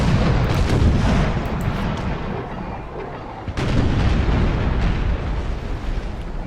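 Cannon fire rumbles through a naval battle in the strategy game Imperial Splendour, a dense, loud, continuous roar of overlapping booms with a sharp new blast partway through.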